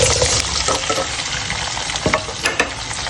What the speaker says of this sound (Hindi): इनको फ्राई करते हैं।